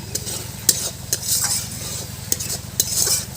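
Spice paste fries in hot oil for a papaya and potato curry, with a continuous sizzle under sharp scrapes and clinks as a spoon stirs against the pan at irregular intervals, close by. No voices.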